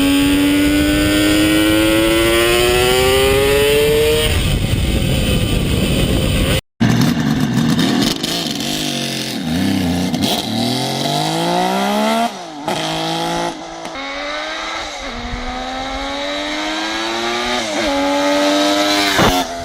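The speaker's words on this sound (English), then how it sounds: "Old school, two-stroke, carbureted three-cylinder front from Kawasaki." A Kawasaki H2 750 old-school carbureted two-stroke three-cylinder motorcycle revs loudly and close. The engine rises and falls through repeated throttle sweeps with a raspy, buzzing tone and a brief cut near the start.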